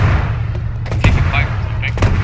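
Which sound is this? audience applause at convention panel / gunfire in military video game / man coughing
gunfire in military video game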